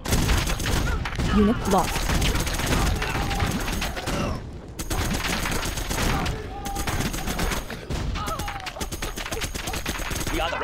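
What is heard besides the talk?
minigun gunfire in the video game Contra X Beta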